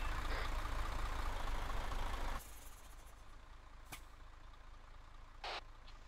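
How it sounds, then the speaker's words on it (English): A military truck engine runs loud and steady, then cuts off abruptly, leaving a quieter background broken by a couple of brief sharp bursts. "Go ahead and shut the truck off for now."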